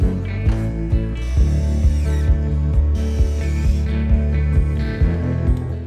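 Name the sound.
power drill drilling and screwing a stainless steel bracket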